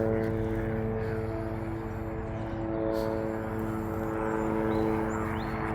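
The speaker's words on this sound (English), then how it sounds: "Just in time to get disturbed by a little old helicopter." A low-flying helicopter passes overhead at a wild campsite, a steady droning rotor and engine hum with a slight rise in loudness.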